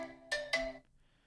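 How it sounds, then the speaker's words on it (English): A telephone in a call-in show studio gives two quick ringtone bursts as an incoming call arrives. The rings are clear and moderately quiet, with no talking over them and near silence after. "All right, incoming call."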